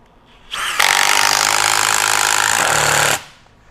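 A Bosch Freak GDX18V-1860C impact driver in mode A, skipping after sinking a fastener: a loud, close, rapid rattling hammer burst that starts abruptly and runs about two and a half seconds before cutting off.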